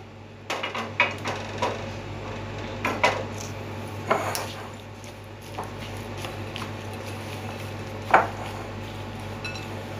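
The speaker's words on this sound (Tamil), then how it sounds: "நல்லா எல்லாத்தையும் மிஸ் ஆகிற மாதிரி நல்லா கிண்டுங்க" Roasted almonds, pistachios and peanuts stirred in a pan, giving a run of dry clattering scrapes and knocks at close range, with a few sharper metallic clinks standing out.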